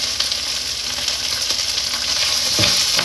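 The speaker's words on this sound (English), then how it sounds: "I'll keep that over the pan so it melts. And then it'll just drop in." Bacon fat sizzling and frying in a hot pan as it melts, a loud, continuous crackling hiss close up, with a brief clatter near the end.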